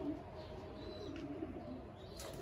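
Soft, low cooing of pigeons in a loft murmurs close by over a steady background hum.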